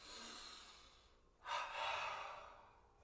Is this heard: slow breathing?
yes